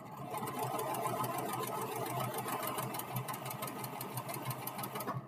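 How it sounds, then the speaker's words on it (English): Rapid, even needle clatter of a sewing machine topstitching and backstitching along the edge of fabric, close and continuous before stopping abruptly at the end, no talk. "backstitch to the end of your fabric. And then stitch forward."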